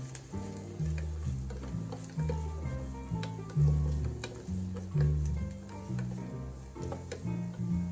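Diced pumpkin sautéing in a pan for risotto, a soft continuous sizzle with scattered ticks and stirring scrapes, heard close and fairly quiet under a faint repeating background tone.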